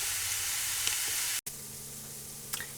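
Ground sausage browning in a pan for canning, with a constant sizzle and steam hiss, a brief cut in the middle and no talk.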